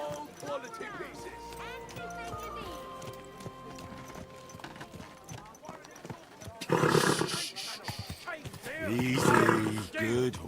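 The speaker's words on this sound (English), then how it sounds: "Easy, good horse." A horse in Kingdom Come Deliverance 2, heard amid busy medieval town ambience with voices nearby, then two loud bursts of snorting or whinnying near the end.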